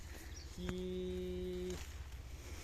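A cow from a village herd in Salgare, Miraj, Sangli gives a single long, steady moo in the middle of the clip. A low outdoor rumble runs underneath, and no one speaks.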